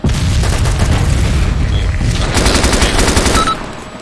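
Missile strike and gunfire in the video game ArmA 2 during a village assault: loud sustained bursts of automatic fire and booming impacts roll continuously, then ease off slightly near the end, with no talking.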